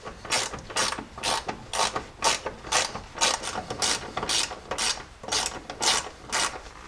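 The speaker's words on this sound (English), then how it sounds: "I'm just going to feed these bolts that were for the rear sway bar in." Rhythmic ratchet clicks from bolts for a Jeep's rear sway bar being fed in and tightened, about a dozen steady bursts of close, crisp clicking with no talk.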